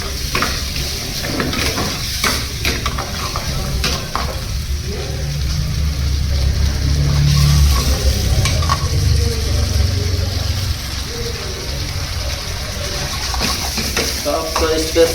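Dhaba-style kadai chicken stir-fried in a kadai with butter, kasuri methi and powdered spices, a steady loud sizzle with scraping stirs running throughout, close up, with a voice talking over it now and then.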